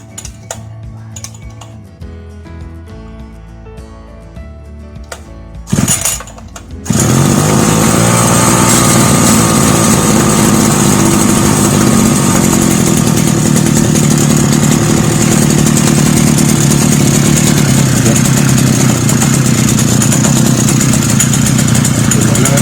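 Brush cutter engine, after some clinking handling, starts abruptly and then runs loud and steady with a high buzzing two-stroke drone for about sixteen seconds.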